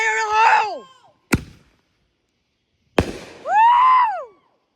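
Fireworks for America's 250th birthday: two sharp launch thumps, each followed by a long whistling, warbling tail that rises and falls, close and loud, with a silent gap between them.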